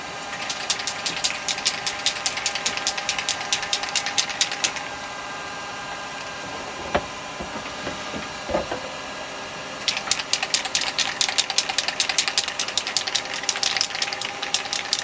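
A wood lathe spins a woodturned basket pot, whirring with a rapid, regular ticking, falls quieter for several seconds with a few knocks, then spins up again steadily.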